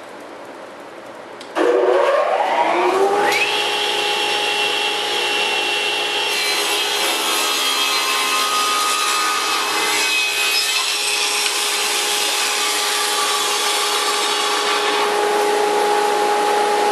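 A saw cutting through a wooden workpiece held on a jig starts abruptly after a quiet moment and then runs as one loud, steady whine with no break, close and continuous, with no speech.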